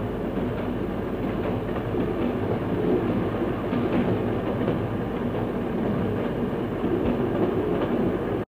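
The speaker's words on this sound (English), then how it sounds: "They all get on the train together" A train rolls along rails in a film, giving a continuous low rumble with faint rhythmic clatter, steady and moderately loud with no voices.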